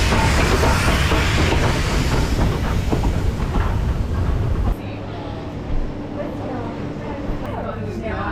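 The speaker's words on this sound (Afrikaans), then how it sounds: "Ons wag vir die trein. Tjoek tjoek." A steam train on the Robertson wine tour pulls in with a loud, dense rumble and clatter of rail cars that drops abruptly to a quieter steady hum partway through, with voices murmuring underneath.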